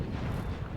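Cannon artillery fire in a Napoleon: Total War battle, a dense low rumble of distant booming shots blending into a continuous roar with no distinct individual blasts, steady and moderately loud throughout.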